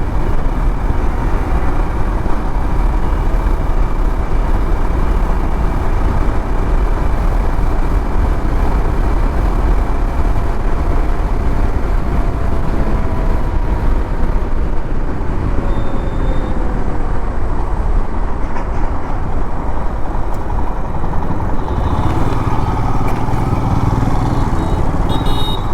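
Motorcycle cruising along a highway service road, a loud, steady engine drone mixed with rushing wind that holds constant throughout, with no one talking.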